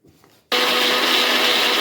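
After a brief quiet moment, a kitchen blender roars to life, grinding peeled amla, a green chilli, a piece of ginger, garlic cloves and coriander leaves into paste, a loud continuous whirring drone that holds steady to the end.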